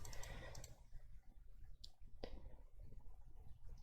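Quiet mouse clicks during a video game, a few sharp isolated clicks over a low background hum, with no talking.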